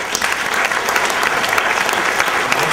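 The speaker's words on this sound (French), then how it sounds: "on les applaudit" Dense, steady applause from an audience at an award ceremony, the Tremplins 2011, continuous and fairly loud throughout with no break.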